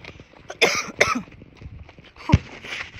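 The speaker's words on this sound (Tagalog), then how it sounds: "Kasi inuubo tayo ng malala." A few sharp, harsh coughs close by, two in quick succession and another a moment later, with quiet room noise between them.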